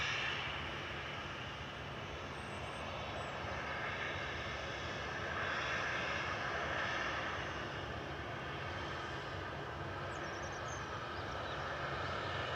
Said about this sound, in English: Here's the first prop of the day, GLMTD, just touching down on 23 right.